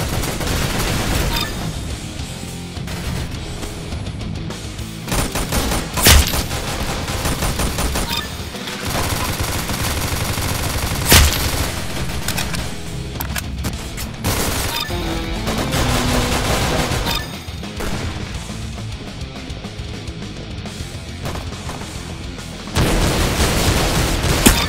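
Gunfire from the Roblox shooter Arsenal, a loud, dense clatter of rapid shots and booms that runs almost nonstop, broken by a few brief pauses and sharp individual blasts.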